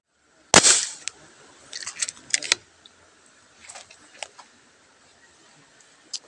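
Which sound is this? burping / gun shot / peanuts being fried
gun shot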